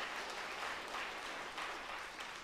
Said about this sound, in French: elle se fait applaudir, on l'entend